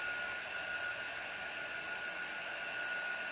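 Hair dryer blowing steadily on a freshly painted door tag during a craft project, a constant loud whooshing drone close by with no talk over it.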